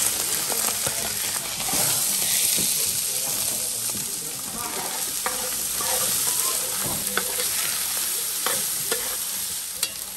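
Onions frying in a pot while being stirred, a steady sizzle broken by repeated scraping and clinking of a spoon against the pot, with a voice talking faintly in the background at times.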